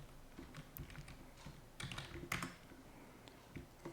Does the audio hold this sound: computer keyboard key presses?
yes